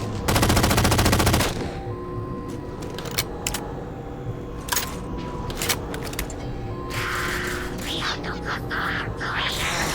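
Gunfire in an action movie opens with a loud, dense burst of machine-gun fire, then scattered sharp shots and crackling impacts ring out over a rumbling battle background.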